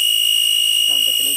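An old VCR tape motor, about 26 years old and short on power, gives off a strained high-pitched whine that holds steady through the short clip, with a voice breaking in near the end.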